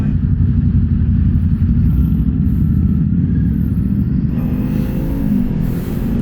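A 2024 Honda CB650R motorcycle engine runs steadily while riding, a continuous loud low rumble throughout, with a slight rise in engine note near the end.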